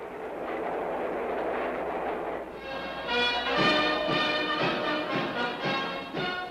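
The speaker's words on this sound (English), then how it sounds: "A train with several private cars carries the Emperor and his official party swiftly to Washington" A train pulling several private cars rolls swiftly along, making a steady loud rumble. Partway through, a tonal hum and rhythmic rail clatter join it.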